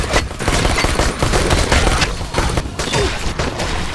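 Dense, continuous gunfire in the Dying Light video game, with overlapping rapid bursts and loud booming shots packed together as a steady fusillade, and no talking.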